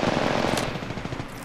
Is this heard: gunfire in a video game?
yes